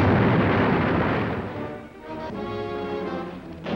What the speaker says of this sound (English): Enemy bunkers on Bunker Hill get a going over from grenades as the Leathernecks close in for the kill